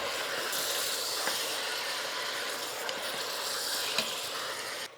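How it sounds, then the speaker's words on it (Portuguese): Beef for a Brazilian pot roast sears in a hot pan with a steady, loud, continuous sizzling hiss, heard on its own with a few faint clicks. "Enquanto a carne vai selando aqui"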